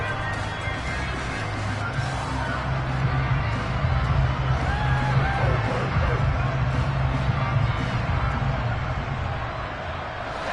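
Stadium crowd cheering and roaring in the American football video game Madden 23, a steady, dense wall of crowd noise throughout, fairly loud and continuous, with no distinct voices.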